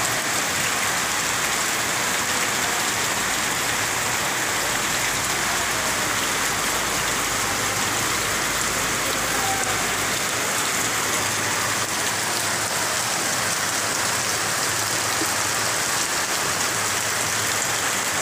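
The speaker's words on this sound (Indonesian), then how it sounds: "Hujan masih sangat deras, jadi teman-teman harap sedia payung saja kalau mau pergi-pergi ke musola." Heavy rain pours steadily over a village at dusk, a dense, continuous hiss of drops striking surfaces nearby with no letup, alone without any voices.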